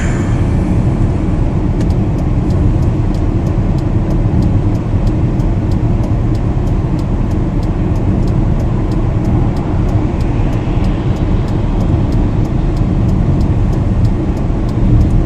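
A BMW E39 converted to electric power cruises along a highway, a steady broadband road and wind roar filling the whole stretch with faint regular ticks on top, no voices.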